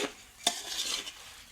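Puffed rice (mamra) being mixed by hand for ladoo gives a soft, close rustling with one sharp tap or clink partway through, then quieter shuffling that fades toward the end.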